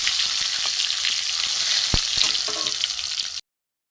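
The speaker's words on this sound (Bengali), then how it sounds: "প্রথমে আমি সবজিগুলো ভেজে নেব। প্রথমে আমি ফুলকপি দিয়ে দিলাম" Steady loud sizzle of chopped vegetables frying in a hot pan as cauliflower florets go in for a vegetarian mixed-vegetable khichuri, with a few soft clinks, cutting to silence near the end.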